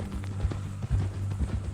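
Horse hooves clip-clop at a steady walking pace in a Western video game, fairly soft and low beneath a faint background hum, with no voices.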